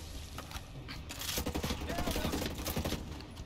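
An LMG fires sustained bursts in the video game Ghost Recon Breakpoint. Rapid, rattling shots grow louder midway and continue steadily under players talking.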